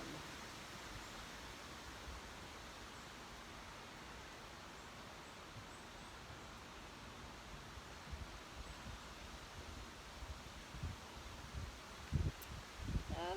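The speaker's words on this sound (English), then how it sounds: "it's moving through the trees and making really windy sound" Steady broadband wind rushing through trees, leaves rustling continuously, with a few louder gusts and rustles near the end.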